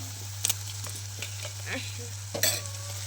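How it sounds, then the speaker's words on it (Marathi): Pasta going into a hot pan sizzles in a steady, moderately loud hiss, with two sharper bursts of clatter near the start and end over a low hum. "आता टाकायचं आपण त्याच्यात पास्ता"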